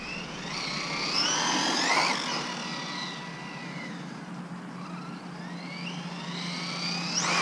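A Traxxas Rally RC car running at full throttle on 3S and 4S batteries, a high electric whine rising and falling as it speeds past, fairly loud and steady.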